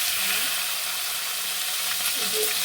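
Eggplant slices frying in hot oil in a home kitchen for a tilapia fish curry, giving a steady close sizzle with soft crackle that holds throughout.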